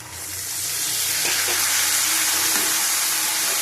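Tomato and mushroom sauté in a pan with salt and a splash of water. A steady, close sizzling hiss swells in the first second and then holds, with faint stirring scrapes.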